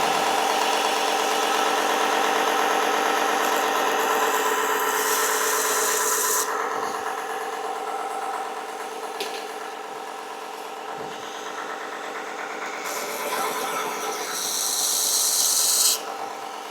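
A mini electric belt sander grinds a damaged knife tip, giving a continuous raspy whir with brief shifts in pitch and pressure as the blade touches and lifts off the belt, close and moderately loud.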